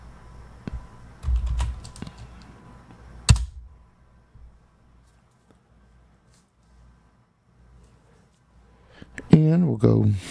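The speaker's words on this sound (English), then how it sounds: "And let me type run." Keys clack on a Commodore computer keyboard in a short burst of close presses, followed by a sharp thunk and a long near-silent stretch, and a voice briefly speaks near the end.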